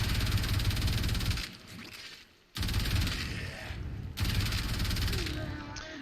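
Kuva Karak rifle in toxin build fires loud sustained automatic bursts in Warframe against corrupted heavy gunners, two long strings separated by a short pause, close and dense.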